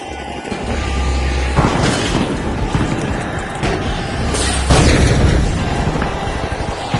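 A grenade exploding in the shooter game The Finals, heavy booming blasts and crumbling debris over a dense roar of battle noise, loud and close, with a brief shout over it.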